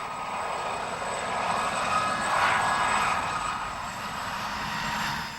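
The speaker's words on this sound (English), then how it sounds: "An army helicopter helps out on the civilian front." A steady engine drone with a faint rhythmic thrum, swelling slightly in the middle and holding on as an army helicopter passes overhead in the Falkland Islands in 1983.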